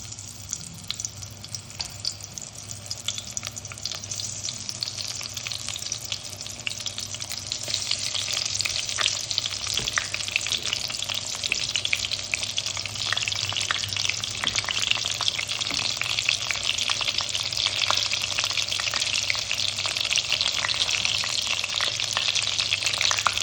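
Eggplant slices for Bengali begun bhaja fry in hot oil over a medium flame, a steady, dense sizzle and crackle that runs the whole time and grows slightly louder toward the end, with no voices.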